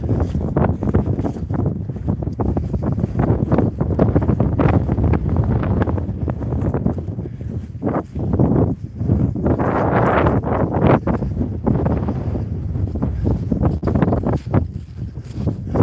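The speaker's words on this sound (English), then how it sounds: "Wow, hot and windy." Steady, heavy wind buffets the microphone, producing a continuous low rumble and roar with gusty surges throughout.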